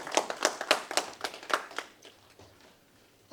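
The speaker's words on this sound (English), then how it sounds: "Please, can we clap for the chairman," Audience at a political support forum clapping for the chairman: a run of sharp, fairly quiet claps at a brisk rhythm that thins out and fades to near silence.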